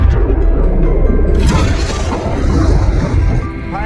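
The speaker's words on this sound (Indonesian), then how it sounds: "torpedo kembali dilepaskan dan kali ini tepat sasaran, menyebabkan Volkov meledak." A submarine called Volkov blows up after a torpedo strikes it, heard as a sustained, loud, rumbling explosion with crashing, debris-like noise throughout, swelling sharply partway through.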